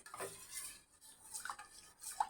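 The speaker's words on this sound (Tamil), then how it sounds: "கன்டினியூஸா இப்படி மிக்ஸ் பண்ணிக்கிட்டே இருக்கணும்." Homemade carrot soap mixture stirred continuously in a pot, with soft scraping and clinking of a spoon against metal in uneven strokes, fairly quiet and close.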